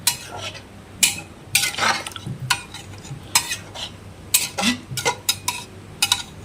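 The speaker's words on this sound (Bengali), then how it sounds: "এবারে আমি দিয়ে নেড়ে দেবো" Goat meat cooking with a spoon of ghee is stirred in a pan on a gas stove, with repeated scraping, clinking strokes of the spoon against metal at an irregular pace, close and fairly loud, with no talk.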